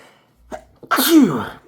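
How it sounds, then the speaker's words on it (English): A close, loud sneeze preceded by a couple of short sharp intakes of breath, then a forceful explosive burst that fades out. "I'm going to sneeze."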